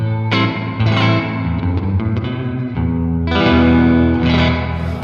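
An electric guitar played through a '63-style spring reverb pedal setting, sustained chords and notes ringing out with a thick, springy wash of reverb and some distortion, strummed loud and alone.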